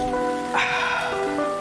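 Rain falling as a sound effect in a radio coffee advert, a short, steady hiss of rain on a surface under a faint musical tone, with no talk heard.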